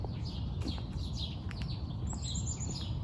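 Several birds chirp and tweet in short bursts on a Mississauga morning, over the steady low hum of a backyard air conditioner, with high calls scattered throughout at moderate distance.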